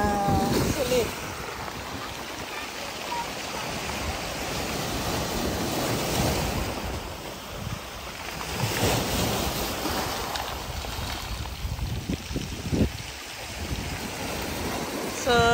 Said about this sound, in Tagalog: Napakaganda ng dagat, napakalinaw.